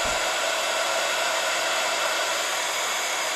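An embossing heat tool blows a loud, steady, close-up whoosh of hot air as it melts embossing powder, unbroken from start to finish with no speech.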